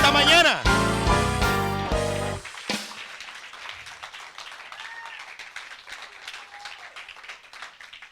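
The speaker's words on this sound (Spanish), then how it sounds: "denle un aplauso al Rey de Gloria esta mañana" Church congregation breaks into applause during a Spanish-language sermon, starting loud and dense with cheering voices, then cutting off and thinning into scattered clapping and murmurs.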